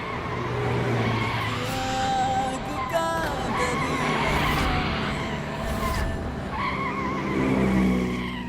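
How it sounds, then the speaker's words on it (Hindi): An approaching car skids with a tire squeal, the engine rising and the screech building loud and close before settling, with dramatic background music underneath. "आपको दिखाई नहीं दे रहा था सामने से गाड़ी आ रही है?"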